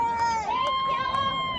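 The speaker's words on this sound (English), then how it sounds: "There's people here everywhere cheering for you." Spectators cheer runners along the New York Marathon route, a brief burst of crowd shouts and whoops with a voice talking up close over it.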